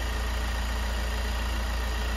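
MAN / VW Crafter diesel van engine idling during an EGR valve test, a steady, close, continuous rumble with a constant even tone and no voices over its short length.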